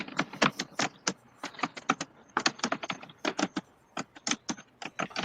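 Rapid keystrokes on a computer keyboard sitting just above the microphone, loud and close, clattering in uneven bursts with brief pauses, no voices.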